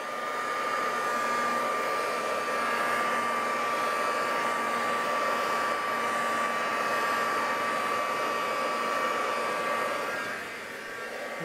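A hair dryer blows air across wet epoxy resin on a coaster to push the colours around, a loud, steady close-up whirring hiss that holds for several seconds and drops off slightly near the end.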